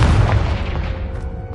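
A Confringo explosion spell goes off in Hogwarts Legacy, a loud, deep booming blast with a rumbling low end that swells at once and then slowly fades across the moment.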